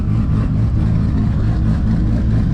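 A 1000-plus horsepower MK4 Toyota Supra engine holds a steady, loud, close drone as the clutch engages, with no break in the sound.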